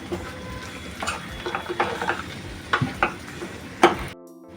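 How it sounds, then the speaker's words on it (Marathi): A Malvani-style dahi kadhi, a yogurt curry, bubbles in a pot with soft popping and sizzling, under irregular stirring scrapes and clinks against the pot, close and moderately loud before stopping abruptly. "आणि दही कढीला कड यायला द्यायचं"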